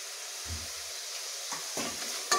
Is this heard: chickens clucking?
no